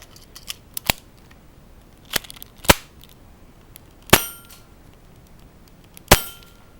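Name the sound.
gunshots hitting steel shooting targets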